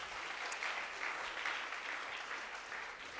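Audience applause at a secondary school debate competition, a steady wash of clapping across the whole stretch, moderately distant and fairly quiet, with no voices over it.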